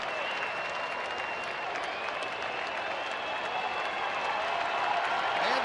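Spectators at a baseball stadium, Angels at Rangers, cheer and clap in a sustained, fairly distant roar as a full count builds on Cole Hamels, with a faint tonal whistle riding over the crowd.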